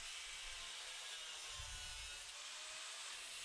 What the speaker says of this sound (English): So I'm just trimming these up. This is again with my 1mm disc.